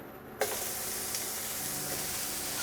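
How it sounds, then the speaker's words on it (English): Smoked sausage dropped into hot olive oil in a skillet, starting with a sudden sizzle that settles into a steady, close frying hiss. "we're going to start adding our sausage to our pan"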